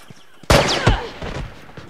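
Gunfire in the video game The Last of Us during an online match, a loud burst of rapid shots with sharp cracks and echoing tails, lasting about a second.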